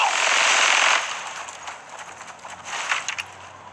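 Rapid sniper rifle gunfire in the video game Brothers in Arms 3, a loud dense burst of shots followed by scattered, quieter reports and clatter.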